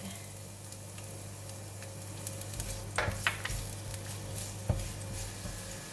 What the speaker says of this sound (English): When the oil heat up, I'm going to put in the garlic